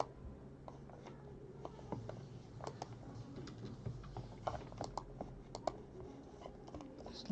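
Soft, irregular taps of a computer keyboard being typed on, near but quiet, in short bursts with pauses and a faint room hum underneath.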